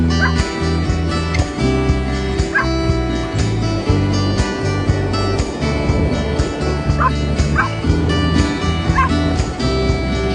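A puppy on a beach gives repeated short yips and barks at uneven intervals over a steady tonal background.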